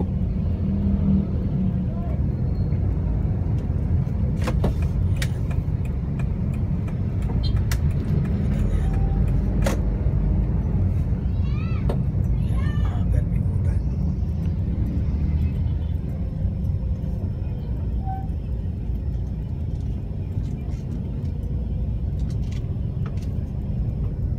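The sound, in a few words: jeepneys queued in road traffic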